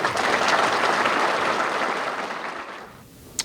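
Audience at the New England Antique Racers Hall of Fame ceremony applauds an inductee walking to the podium, loud sustained clapping that fades away, ending with a single sharp tap.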